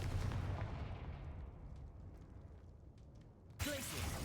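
A Confringo fire spell cast in Hogwarts Legacy, a heavy blast that decays into a rumbling tail, followed by a sharp new burst near the end.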